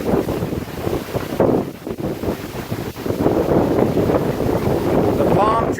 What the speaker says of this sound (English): But the wind itself